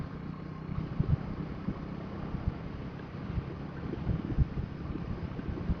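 Strong wind buffets the microphone near the sea at Pamban on the road to Rameswaram, a steady low rumbling roar with gusty bumps throughout and no talk.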